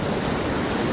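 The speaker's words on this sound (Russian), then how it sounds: "Так, вот смотри, сейчас может волна их бахнет." Sea surf surging onto the shore at Adler near Sochi, a steady broadband wash of breaking water with wind, close and loud, with no speech.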